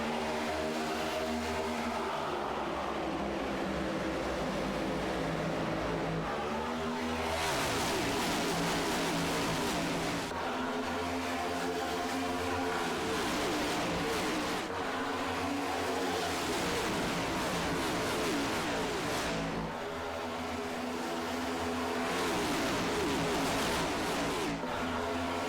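Race trucks roaring up to speed on a Georgia oval at a green-flag restart in a Truck Series race, a loud, sustained pack of engines swelling and passing in waves.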